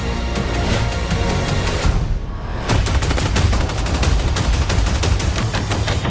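Heavy gunfire from The Batman trailer, rapid bursts of automatic shots in a dense, loud fusillade, briefly interrupted by a short swoosh before the firing resumes.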